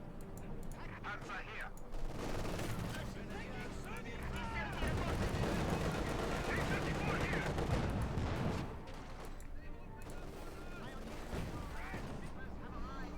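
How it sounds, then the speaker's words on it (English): Sustained gunfire and machine-gun bursts from a Company of Heroes 2 battle with T-34 tanks, heard as a dense, distant rattle under a steady game soundscape. "Bit of shooting there."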